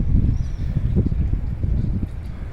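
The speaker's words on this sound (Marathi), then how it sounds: "समोरून एक बोट अगदी वेगाने येते आपल्याकडे छोटी बोट" Small boat speeding toward the listener on open water near an uninhabited island off New Zealand, a steady low motor rumble mixed with wind buffeting the microphone throughout.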